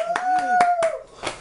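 Several sharp hand claps ring out at a steady pace, roughly five in quick succession, while a tonal voice sings or hums underneath them.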